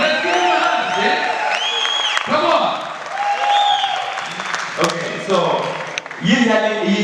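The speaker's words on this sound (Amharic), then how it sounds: "ለኔክሶ ጋር ሞቅ ያለ ጭብጨባ" An audience applauds warmly at a TikTok academy graduation ceremony, steady clapping throughout with voices and music over it.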